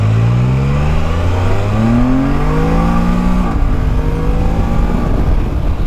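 A Can-Am three-wheeler's engine revs hard and climbs through rising pitch sweeps, shifting and accelerating again, loud and close, with a continuous roar from spinning rear tires.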